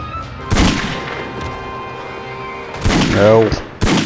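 Gunfire and gas pump explosions in The Godfather video game, several sharp booming bursts around a continuous low game soundscape, the loudest blast rumbling for a moment near the end.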